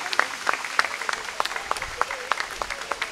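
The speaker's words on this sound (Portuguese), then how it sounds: "aplausos, os grupos estão a chegar." Sparse clapping from an audience at a folklore festival opening ceremony in Barcelos, welcoming arriving folk groups. Scattered individual claps are spaced unevenly across a few seconds, moderately near, with voices murmuring underneath.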